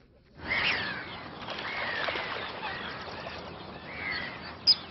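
Ducks call from a distance across the Baie de Somme at dawn, scattered quacks and honks rising over a soft, breathy background hiss, with one sharper call near the end.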